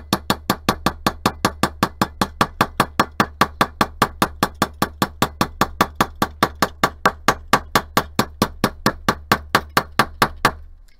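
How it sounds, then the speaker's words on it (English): A riveting hammer's chisel end strikes metal to texture it, with rapid, evenly spaced sharp metallic taps, about four or five a second, ringing close and loud without pause. "this chisel end makes a really good texturing tool"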